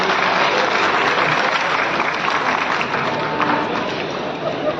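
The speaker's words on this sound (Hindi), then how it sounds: "एक बार जोरदार ताली सभी के लिए।" At the Mithila festival in Madhubani, Bihar, a large audience bursts into loud, sustained applause, a dense wash of clapping that holds steady for several seconds and fades slightly at the end.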